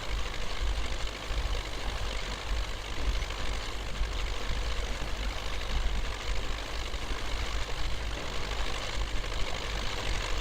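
An MTZ 82.1 tractor engine in the Spintires: Mudrunner game runs steadily, a dense continuous diesel drone with a knocking, idling texture, moderately quiet and with no talk.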